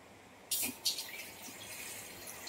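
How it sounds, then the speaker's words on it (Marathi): Water pours from a metal lota into a large steamer pot, a brief splashing gush followed by a softer trickle and steady faint running water. "आता ह्याच्यात मी टाकते 1 तांब्या पाणी"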